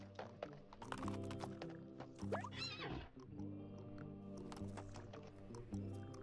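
In the What The Golf video game, a horse's hooves tap in quick clip-clop bursts while a single rising-and-falling neigh cuts through the middle.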